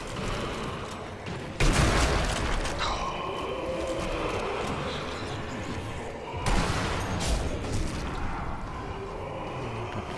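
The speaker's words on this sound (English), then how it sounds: "Alright, I'm gonna keep shooting them." Gunfire in the video game Sniper Elite Nazi Zombie Army, with two loud sharp shots or blasts spaced several seconds apart over a constant roaring, rumbling battle din as zombies are shot.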